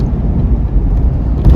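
A 1985 Chevy K5 Blazer 4x4 squarebody cruising along small country back roads in Germany, a loud, steady low engine and road rumble heard up close inside the cab, swelling slightly at the end.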